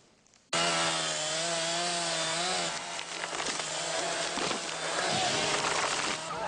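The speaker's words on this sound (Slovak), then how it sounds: "len čo sa z lesa ozvali motorové píly" Chainsaws cut old forest wood, kicking in abruptly after a quiet start and then running loud and sustained, with engine pitch shifting as the chain bites into the timber and with no talk over it.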